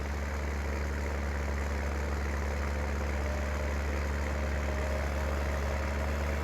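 Big Bud tractor with 1,100 horsepower in Farming Simulator 19: a steady, deep diesel engine idling with a low droning rumble, constant and close throughout.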